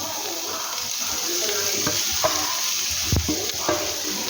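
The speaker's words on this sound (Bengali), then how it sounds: "এবার আমি এই চিকেনগুলো এর মধ্যে দিয়ে দেব।" Chicken pieces are added to fried vegetables in a pan for hot and sour soup, producing a steady close sizzle with occasional stirring knocks and scrapes.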